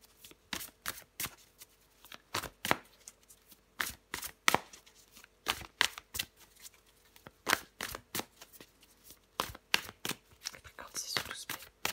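Tarot cards are shuffled and handled close up in quick, crisp riffling bursts and flicks, irregular but steady throughout, with soft speech faintly present.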